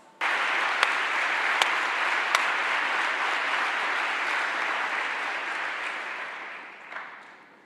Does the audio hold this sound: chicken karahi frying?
no